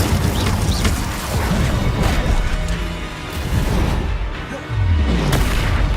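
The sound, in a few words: Confringo blasting curse explosion in the Hogwarts Legacy video game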